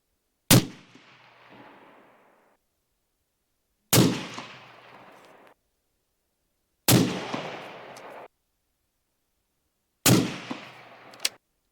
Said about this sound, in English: We're just going to keep shooting at it.